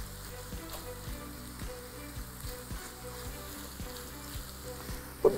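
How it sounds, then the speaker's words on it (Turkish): Tomato paste and minced meat frying together in a pan, a low steady sizzle running throughout with faint soft ticks, quiet and close, ending in a brief clatter. "Salçam kavruluyor, kıymam da pişiyor bir yandan."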